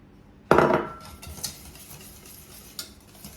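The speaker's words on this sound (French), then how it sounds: "en parallèle on mélange les œufs avec le sucre plus la poudre à crème" A whisk or spoon striking a bowl while eggs are mixed with sugar and custard powder, one sharp clatter followed by lighter scraping taps, close and isolated.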